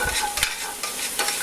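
Chicken breast being stirred in a hot pan just before red wine goes in, a constant sizzle with a few quick scraping strokes of the utensil, close up with no voices.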